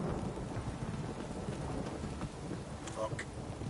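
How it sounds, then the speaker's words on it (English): A heavy rain downpour in The Witcher 3: Wild Hunt hisses as a dense, constant wash with low rumbling underneath, while a voice speaks faintly over it. "This downpour's a bastard"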